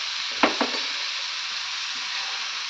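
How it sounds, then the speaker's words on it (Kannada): Pepper fries in a pan with a steady, close sizzle throughout, broken early by two quick clinks of stirring against the pan. "ಇದು ಚೆನ್ನಾಗಿ ಫ್ರೈ ಮಾಡಬೇಕು"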